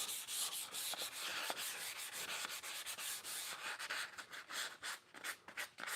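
An orbital sander with a soft pad scuffs a wooden surface coated in pure tung oil finish, with a steady, close, gritty rasp that pulses slightly as it moves. No voices are heard.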